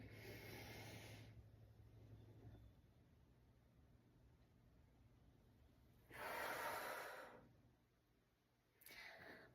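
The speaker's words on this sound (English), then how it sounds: "Think about breathing out at the top, breathing in" Slow, deep breaths during a gentle bedtime stretching routine: two or three long airy inhales and exhales spaced several seconds apart, close and soft over a quiet room.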